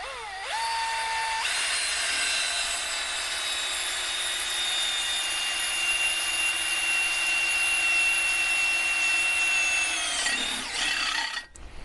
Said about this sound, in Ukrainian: Спробуємо просверлити аврорівську головку аврорівським сверлом.